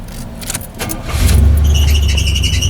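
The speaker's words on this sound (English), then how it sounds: "Every time you start her up, she squeals. That's fan belts." Oldsmobile Cutlass engine cranking and catching, followed at once by a loud, sustained fan-belt squeal over the idling motor, close by and rising sharply after the start.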